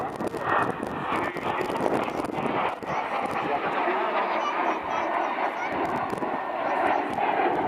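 Aircraft flying a mirror formation pass at an air show in Rennes, a steady loud engine roar sustained across the whole stretch with crowd noise and talk mixed in.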